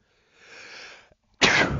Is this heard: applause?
no